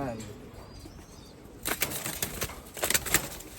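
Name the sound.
racing pigeons flapping wings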